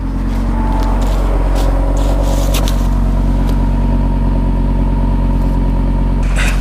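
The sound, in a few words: 2022 Audi RS3 engine running while warming up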